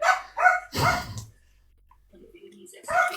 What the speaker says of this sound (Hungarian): Hallom, van kutyád.